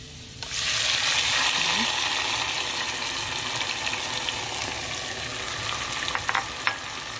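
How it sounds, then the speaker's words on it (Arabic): Garlic dropped into hot oil in a pan sizzles and crackles steadily, a loud, close frying hiss that starts abruptly and continues throughout with small pops and a few light clinks. "غادي نزيد عليه ديك الثومه، نخليها متشحر واحد شويه ماشي بزاف"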